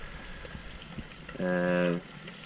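Bacon sizzles over an outdoor campfire with a faint, steady crackle and hiss, interrupted midway by a brief humming voice-like tone.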